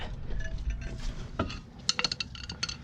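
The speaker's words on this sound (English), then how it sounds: "Now we're going to take a flathead and stick it into the vents in the rotor and pull the caliper out." A flathead screwdriver pries a brake caliper off the rotor of a Ford Transit Connect, giving metallic scrapes and a burst of sharp, close clinks toward the end.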